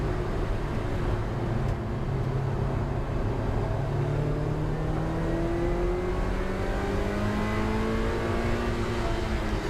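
Mazda MX5 race cars at Brands Hatch GP pass through a tight section of track, a steady engine drone with several overlapping rising and falling tones that holds continuously throughout.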